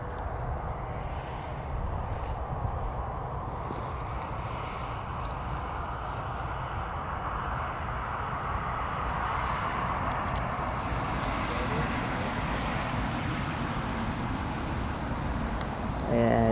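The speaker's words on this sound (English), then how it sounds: "That's British Airways A320, I believe." A British Airways A320 on final approach into Newcastle Airport rumbles in the distance as a steady, broad roar that grows slightly louder over time, with a voice speaking now and then.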